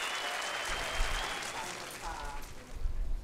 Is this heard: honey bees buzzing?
no